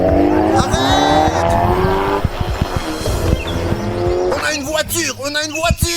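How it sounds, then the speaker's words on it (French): A car in a video game revs and speeds off with engine whine and a tire squeal, loud and close, while someone talks over it. "Oh, il y a une voiture. Ils partent."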